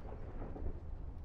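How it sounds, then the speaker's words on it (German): A thunderstorm in a video game rumbles steadily, with deep low rolling thunder and a soft wash of rain, moderately quiet and continuous with no voices. "Gewitter"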